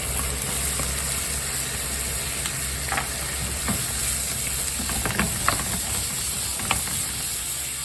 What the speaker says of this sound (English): We've got ourselves a frying pan with oil. We're going to add our bacon first.